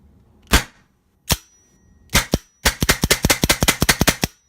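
A Bob Long Autococker paintball marker fires a few spaced single shots, then a rapid string of about a dozen sharp pops in quick succession, loud and close.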